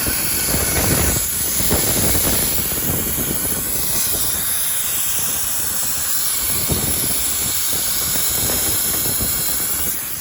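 Air hisses steadily from a busted truck trailer brake line, a loud, continuous rushing spray that holds constant throughout with no speech.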